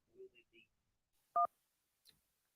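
A radio call-in line connects: a few short telephone dialing tones, then a single louder clear double-pitched beep, followed by a faint click, with quiet gaps in between.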